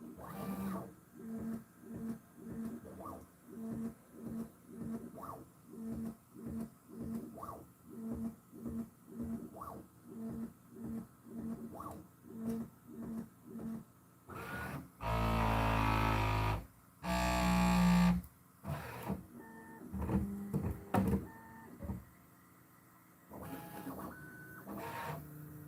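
A Bambu Lab X1 Carbon 3D printer with carbon rods runs close by, its motors pulsing in a rapid regular rhythm of short whirs, broken by a couple of loud, dense mechanical bursts partway through; no speech.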